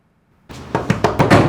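A hand knocks on a door indoors, loud and close, with five or six firm raps in a quick, slightly uneven rhythm.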